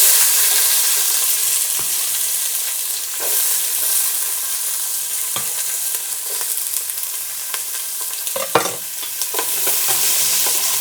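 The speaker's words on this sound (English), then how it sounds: "I'm going to stick the onion in there." Onion frying in a pan with toasted spices for a Burmese-style coconut milk lentil curry, a steady close sizzle with scraping stirs and occasional utensil clinks throughout.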